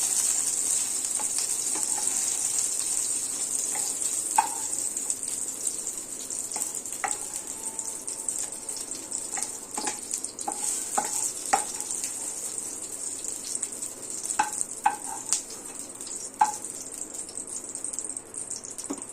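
Food sizzles steadily in a hot pan while making paneer dosa, a constant bright hiss with scattered scrapes and clinks as a utensil stirs, and no talking over it.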